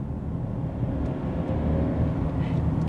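A Mercedes E-Class estate (S213) with an inline four-cylinder engine gives off a low, steady, muffled drone under gentle acceleration, heard from inside the car with no talking.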